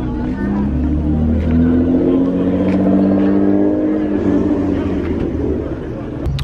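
A Nissan GTR at a late-night street car meet, its engine droning and revving loudly nearby with a strong steady rumble, while people talk around it.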